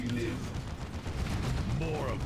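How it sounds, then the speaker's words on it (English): Grenades and gunfire in the video game Warhammer 40K: Dawn of War 2, a dense continuous rumble of battle with bursts and explosions, steady and moderately loud throughout. "Especially with Tarkus just keeps chucking nades into close combat."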